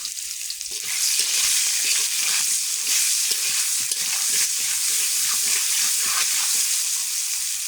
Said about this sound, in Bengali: রসুন থেতো করে নিয়েছি তেল দিয়েছি আলুটা ভেজে নেব